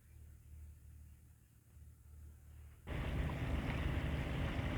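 A sailboat motors on the Sound of Mull in Scotland on a very still morning, its engine a steady low drone that jumps to a louder, broader rumble partway through.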